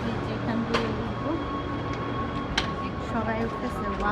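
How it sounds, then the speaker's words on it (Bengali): Metro train at an underground station on a city line, a steady low rumble with brief clanks and hiss bursts close by, while people talk and move around nearby. "তো আমি আবার এখন অন্য একটা মেট্রো লাইন ধরবো"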